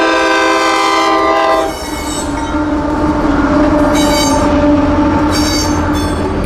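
A train horn blares loudly, then a freight train rumbles past close by with wheel noise and squealing, the horn sounding again in short bursts.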